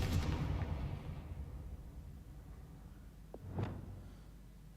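A Confringo spell blast in Hogwarts Legacy: a loud explosive burst at the start that decays slowly into a rumbling tail, followed later by a smaller whooshing impact.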